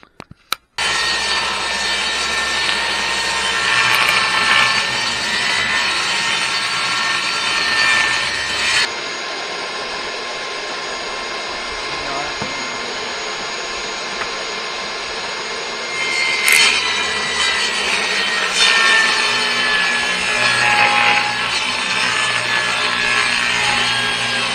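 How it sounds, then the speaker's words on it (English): Table saw ripping plywood to thin it down for a beehive top cover, a loud continuous broadband whine and cutting roar that eases partway through and then rises again as the cut continues, with no speech. "I'm trying to thin this down so it'll fit my table saw"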